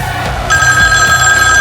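A telephone rings loudly in a live sports call-in broadcast, a steady electronic bell tone starting abruptly after a brief moment of background sound and continuing alone.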